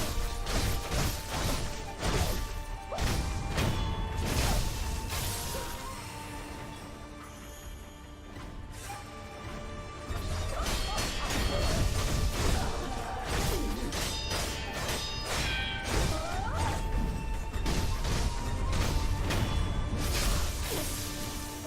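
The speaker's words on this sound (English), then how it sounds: "just go into the Sabimaru combo" Sabimaru sword combo attacks in Sekiro: a dense, continuous barrage of blade whooshes, sharp clashing hits and thuds at close range, with layered game effects and music underneath.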